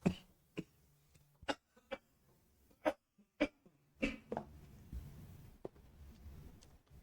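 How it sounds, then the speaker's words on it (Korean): Several sharp, separate coughs from a speaker at an indoor talk, coming one after another with pauses between them and fairly close, with faint room noise and a little low murmur afterward. "이 기침이 유행하는 기침이라고 하는데"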